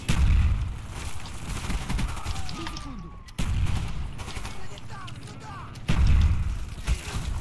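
Gunfire in a shooting video game comes in dense, loud bursts of rapid shots and booms that run almost without pause, with brief lulls before the firing swells again.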